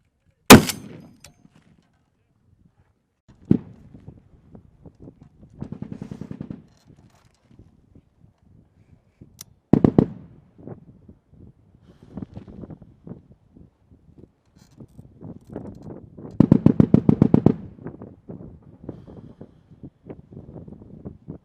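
Gunfire rings out at a range: a sharp, loud shot at the start, followed by scattered bursts of rapid repeated firing at varying distances, with quiet gaps in between.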